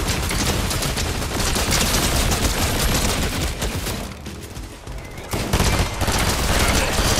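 Video game gunfire in a round of hide and seek, rapid bursts of automatic fire that keep up loud and continuous through the whole stretch with barely a pause.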